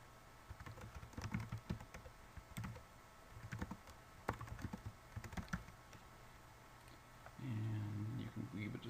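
A computer keyboard tapped in quick irregular bursts of light clicks while a case name is entered, fairly close and quiet, with a voice speaking briefly near the end.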